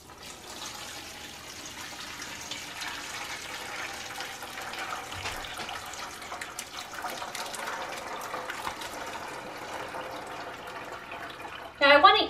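Curds and whey pour and splash steadily through a strainer for several seconds while making goat cheese, a continuous watery rush with a brief louder clatter at the end.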